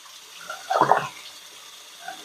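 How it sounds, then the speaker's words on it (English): Water from a sink tap runs in a brief gushing burst that swells and fades within about half a second, with a faint steady hiss before and after, fairly close, no talking. "So we're just going to watch that sink run for a second."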